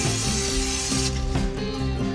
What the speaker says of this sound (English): I'm going to spray the cast iron pan with a little bit of cooking spray